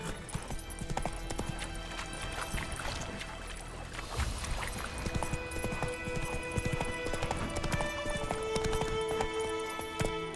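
Horse hooves clip-clop steadily at a trot in The Witcher 3: Wild Hunt on PS5, a continuous rhythmic patter of clear hoofbeats over ambient game music and outdoor background sound, with no talking.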